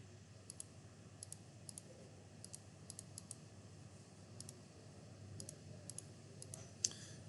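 Calculator buttons pressed in a quiet classroom setting, a string of light, crisp clicks in small irregular bursts, faint but distinct over a low background hum, ending with a slightly louder press.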